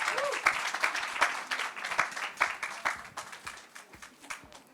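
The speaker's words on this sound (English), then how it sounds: "as we thank them with another round of applause" A crowd at a stage event gives a round of applause: dense, lively clapping from many hands, steady and fairly loud throughout, with faint voices beneath.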